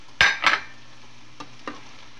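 Sweet potato and carrot pieces stirred in a hot pan with oil, two quick bursts of sizzling scrape near the start followed by a couple of fainter clinks of a utensil, no voices.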